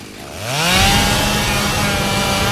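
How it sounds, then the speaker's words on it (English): A chainsaw revs up from low to a loud, sustained buzzing drone in a horror film scene, with its rising pitch sweep at the start, and no talk over it. "Have some fun with a chainsaw."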